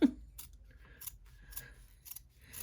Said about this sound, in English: Use your best applique scissors.